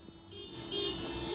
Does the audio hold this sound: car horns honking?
yes